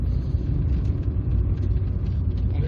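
A 1990 Fiat Tempra 1.8 SX with a twin cam engine running at speed from inside the car, a loud, steady low rumble with constant road and engine drone and no break.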